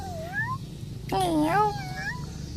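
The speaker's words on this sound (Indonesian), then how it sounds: "Suara kucing dia." A cat gives a short meow, then a longer, louder drawn-out meow close by.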